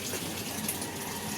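Water from an automatic washing machine drains in a steady, continuous rush, fairly quiet and close, with no break in the flow.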